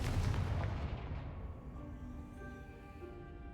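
Confringo spell blasts in the Hogwarts Legacy game, a heavy booming explosion at the start that rolls off into a fading rumble with a lingering tonal hum, fairly quiet overall.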